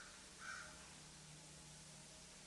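A single crow gives one brief, distant caw over a quiet, steady background hum.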